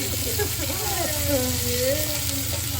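A single onion piece sizzling in hot oil while home cooking an egg omelette curry, a steady close frying crackle, with a voice talking over it.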